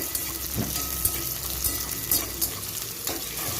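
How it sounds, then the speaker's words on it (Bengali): Chopped onion frying in hot oil with whole spices, bay leaf and dried red chilli: a steady crackling sizzle with occasional stirring scrapes and spoon knocks, close and continuous. "এবার আমি এর মধ্যে কুচিয়ে রাখা পেঁয়াজটা দিয়ে দিলাম পেঁয়াজটা আমি হালকা ভেজে নেব"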